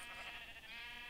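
Sheep on a modded EMC sheep farm in Minecraft bleat faintly in a long, wavering game cry that fills the short moment on its own.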